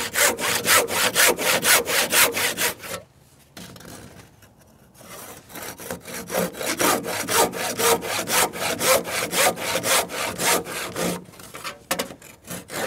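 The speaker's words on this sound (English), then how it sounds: "Just rub a handsaw in here." A sharp handsaw cuts a wooden rafter foot for a roof pattern rafter in loud, rhythmic back-and-forth strokes, pausing briefly before the steady sawing resumes.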